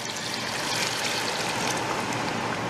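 Water left from boiling fava beans is poured into a pan, a steady splashing trickle that runs evenly and close throughout.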